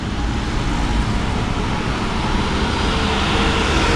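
Steady, dense roadway noise from a traffic jam on a street in Gangtok, Sikkim: a continuous broadband rumble and hiss of idling and slowly moving vehicles, fairly loud and even throughout, with no talk.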